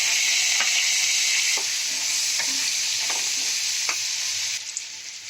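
Chopped tomato frying in oil spiced with turmeric and chili powder, a loud steady sizzle broken by spoon scrapes and stirring knocks against the pan, easing slightly near the end.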